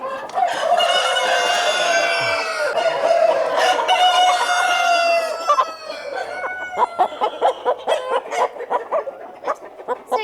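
BAU chickens on a farm, loud and close: a rooster crows in long drawn-out calls over the first half, then a rapid run of sharp clucks and squawks follows, with faint barking possible in the background.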